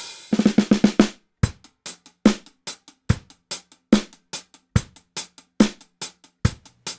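Unprocessed recording of an acoustic drum kit, opening with a fast flurry of hits and settling into a steady, punchy beat of sharp close strikes with short decays in a dry room.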